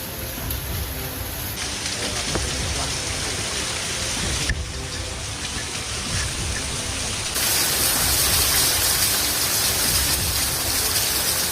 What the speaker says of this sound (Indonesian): Air di curug ini kalau musim kemarau seperti ini alirannya memang nggak besar